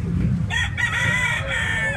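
A black-leg rooster crows once at close range, its drawn-out call rising over a low background murmur on a vegetable farm.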